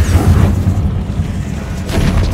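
Bombarda blasting spell going off in Hogwarts Legacy, a deep rumbling boom that swells loud at once and rolls on with low-end weight through the short moment.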